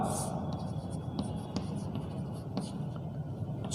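Pen scratching on paper while a trapezium area problem from a Class 8 Hindi mensuration lesson is worked out, soft continuous strokes with brief taps, close and fairly quiet.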